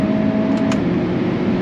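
A tuned Hyundai Elantra N with a stage 2 tune drones steadily under acceleration in third gear, a loud, continuous engine hum heard from inside the cabin.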